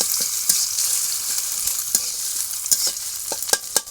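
An egg with salt and turmeric being scrambled and fried in oil in a pan, a constant bright sizzle with repeated scraping taps of a spatula stirring it.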